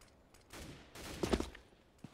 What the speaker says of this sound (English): Some precautionary flashbangs coming in.